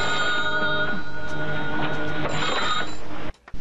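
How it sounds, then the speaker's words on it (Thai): A telephone rings loudly indoors in a home, a steady electronic bell that repeats without a break until it cuts off abruptly near the end. "ฮลโหลโทรศัพท์ใครอ่ะของพ่อค่ะพ่อคะโทรศัพท์"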